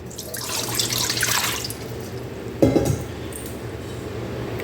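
Water runs steadily into a pot for making choux pastry, with a brief clink partway through and no talking.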